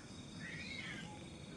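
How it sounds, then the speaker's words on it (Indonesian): A cat lets out a drawn-out, eerie meow at night at a solo camping spot, rising and falling in one long wavering cry over faint background hiss. "Kucing teman-teman, ngeri banget suaranya."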